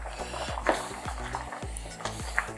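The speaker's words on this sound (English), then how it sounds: "I'm gonna flip the turkey over." A jerk turkey being flipped over on a charcoal barbecue: a steady sizzle and crackle run throughout, with repeated dull scrapes and light metallic clinks close by.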